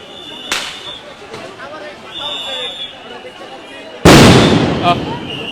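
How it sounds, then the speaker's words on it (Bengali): A sound grenade goes off during a police clash with students at Shahbag, Dhaka: one loud, sharp, close blast near the end, after an earlier crack, over a steady murmur of crowd noise. "আবারও সাউন্ড গ্রেনেড নিক্ষেপ"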